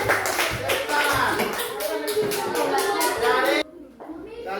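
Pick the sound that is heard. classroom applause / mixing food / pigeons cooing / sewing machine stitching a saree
classroom applause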